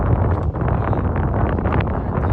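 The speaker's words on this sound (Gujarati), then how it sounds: "પવન બહુ છે" Strong wind blowing across a bridge, buffeting the microphone with a loud, constant roar and no break throughout.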